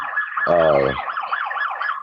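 Emergency vehicle siren coming through an open microphone, a continuous wailing, warbling tone with a brief low horn-like blast early on.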